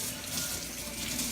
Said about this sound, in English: So I'm going to be scrubbing in.